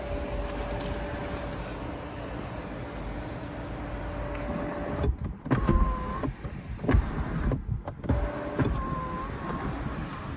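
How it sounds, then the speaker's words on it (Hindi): A motor hums steadily as the electric panoramic sunroof of a 2021 Hyundai Creta SX 1.5 slides fully open on one touch, with brief clunks and shifts in the whirr partway through, heard close inside the cabin without speech. "इस कार में भी आपको पैनोरामिक सनरूफ मिल जाती है, देखो 1 टच में पूरे ओपन हो जाते हैं।"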